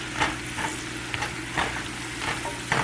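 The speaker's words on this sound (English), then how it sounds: "saute up your celery until it's all tender" Celery sautés in butter with a constant close sizzle, while a utensil scrapes and stirs through the pan in several evenly spaced strokes and no one speaks.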